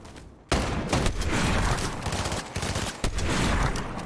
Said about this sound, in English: this weapon is amazing! The all-rounder Reaper sniper rifle.